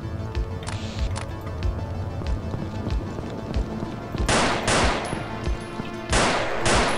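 Gunshots in the horror video game Afraid of Monsters, a steady run of sharp shots about every half second, with louder, heavier shotgun-like blasts near the end, close and without talk.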